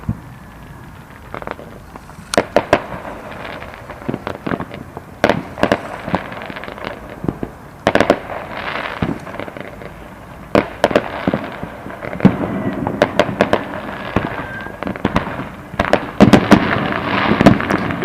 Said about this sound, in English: Everybody does their own fireworks show.